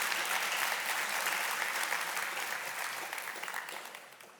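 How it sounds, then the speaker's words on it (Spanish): A congregation applauds at a church sermon, a dense wash of clapping that holds steady, then slowly tapers off, heard alone at moderate distance. "Dale un fuerte aplauso a Dios."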